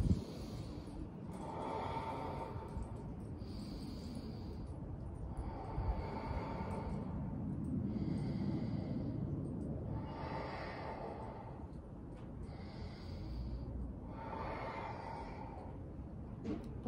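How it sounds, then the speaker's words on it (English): Five slow, deep breaths during a tabletop-position stretch, each inhale and exhale drawn out and soft, following one another at an even pace over steady low room hum, with no talking. "let's give it 5 deep inhales and exhales in here"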